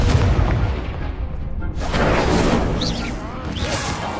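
Spell effects crackle and boom in Hogwarts Legacy as Incendio and other charms are cast, a dense roaring burst with whooshing sweeps and dull thuds, while a player voice speaks over it.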